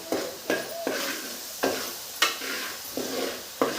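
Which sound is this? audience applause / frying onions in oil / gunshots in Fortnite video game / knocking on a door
frying onions in oil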